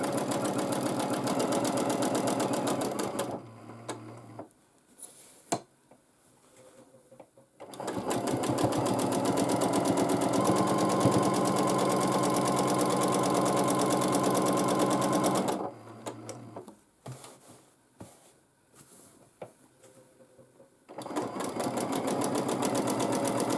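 A sewing machine stitches a fluffy quilt in free-motion quilting, running in long fast buzzing stretches that stop and start, with quieter pauses of handling between runs and no speech.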